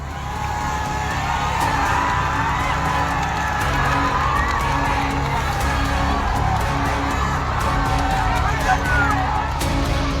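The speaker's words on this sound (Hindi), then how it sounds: "गांव की एक सड़क पर मजमा लगा है, लोग शोर मचा रहे हैं।" A village crowd gathered on a road shouts, whoops and cheers steadily throughout a dangerous stunt with two tractors tied together, a dense wall of excited voices with an engine drone underneath.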